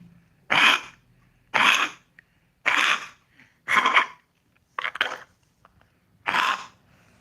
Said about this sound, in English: So he's got a nasty cough.